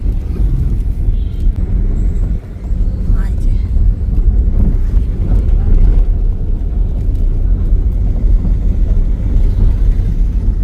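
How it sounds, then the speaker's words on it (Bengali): Low rumbling road and engine noise from inside a moving car, steady and loud with some wind buffeting. "আমরা এখন গাড়িতে বসে পড়লাম"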